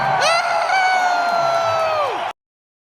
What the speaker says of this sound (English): that was me screaming at the end of this voice recording